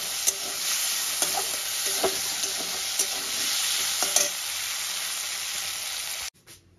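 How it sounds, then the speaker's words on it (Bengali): Small cut potatoes coated with salt and turmeric sizzle steadily in hot oil in a wok, with occasional clinks of a stirring spoon; close and continuous, then cut off abruptly near the end. "এবার আলুগুলোকে আমি লাল করে ভেজে তুলে নেব।"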